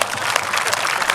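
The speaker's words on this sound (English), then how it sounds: "So give a round of applause" An audience at a baseball pre-game ceremony claps steadily and fairly loudly, a dense, even patter of many hands for just over a second.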